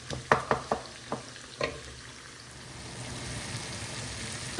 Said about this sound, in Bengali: আর চিংড়ি ভুনার জন্য পেঁয়াজ নরম করছি